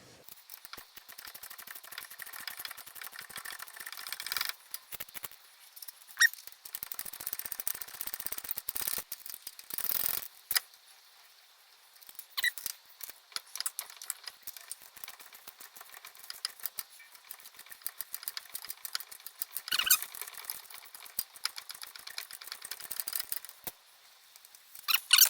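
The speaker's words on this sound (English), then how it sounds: "Now we can do the rest with the small ratchet." Small hand ratchet working bolts loose on a Volkswagen/Audi MQB wheel bearing, a run of quick dry clicking bursts with brief pauses between strokes, close and fairly quiet.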